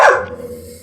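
A dog at the Magh Mela fair in Prayagraj gives a single loud, close bark in daytime that trails off into a fading whine over low background noise.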